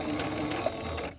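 A sewing machine stitches through stamped fabric and paper in a quick, close run of mechanical clatter, each needle stroke ticking rapidly for about a second before stopping.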